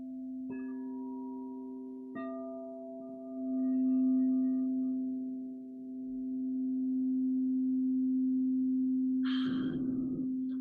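A singing bowl struck twice, each strike giving a sharp onset and then a long sustained, pure ringing hum that swells and wavers as it is rubbed, ending with a brief breathy noise near the end.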